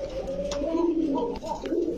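Pigeons coo in a small market of Black Danish birds, several soft cooing calls running together close by over a murmur of background chatter and crowd noise.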